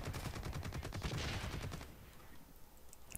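A fast, loud volley of automatic gunshots in the Blacklight Retribution multiplayer game rattles for almost two seconds, then fades into quieter background noise.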